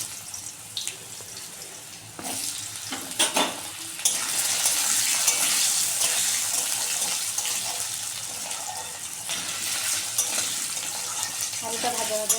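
Potatoes sizzle in a hot pan for a paneer and capsicum dish, a steady close frying hiss with scraping stirs and a louder burst as they go in, no talking.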